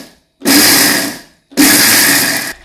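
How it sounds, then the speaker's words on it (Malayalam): Mixer grinder jar pulsing ginger, shallots and garlic: two loud, close whirring bursts of about a second each, separated by a brief pause. "ഇതെല്ലാം കൂടി നമുക്ക് നമ്മളെ മിക്സിന്റെ ജാറിൽ ഇട്ടിട്ട് ഒന്ന് പൾസ് ചെയ്തിട്ട് എടുക്കാം."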